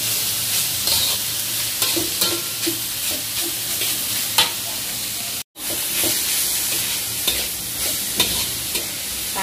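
Green beans and carrots fry in a black wok for Thai noodles, a steady loud sizzle with stirring scrapes throughout and a brief silent gap midway; no talking.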